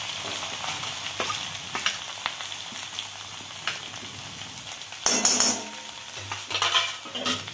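Cumin, mustard seeds, curry leaves and a ground masala paste fry in hot oil for kat vada, a continuous close sizzle with stirring scrapes and louder spattering bursts toward the end.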